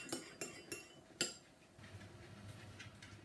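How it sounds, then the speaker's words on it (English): Egg yolks with vanilla extract stirred in a bowl, four bright clinks of a utensil against the bowl followed by soft quiet scraping, close and faint, with no voices. "To your egg yolks, you want to add your half a teaspoon of vanilla extract and just give that a little stir"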